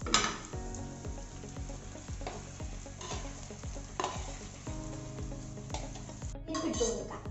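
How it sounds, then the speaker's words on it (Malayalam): Chicken pieces and chili flakes frying in a hot pan for chicken kondattam, a steady sizzle with repeated spoon scrapes and metallic clinks of stirring against the pan. "എന്നിട്ട് നമുക്ക് ചിക്കൻ ഇട്ട് കൊടുക്കാം. ചിക്കൻ്റെ കൂടെ ചില്ലി ഫ്ലെക്സും കൂടെ അങ്ങ് ഒരുമിച്ചങ്ങ് ഇടാം."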